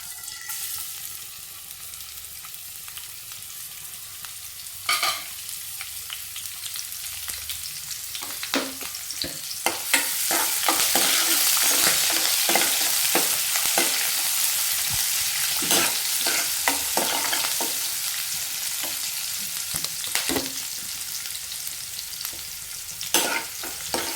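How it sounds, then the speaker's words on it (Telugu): Oil sizzles and crackles steadily as mustard seeds, onions and chillies fry in a pan for tempering, with intermittent spoon scrapes and stirring clatter, growing louder midway. "నూనె హీట్ అయిన తర్వాత ఇవన్నీ వేసుకొని మంచిగా ఫ్రై చేసుకుందాం"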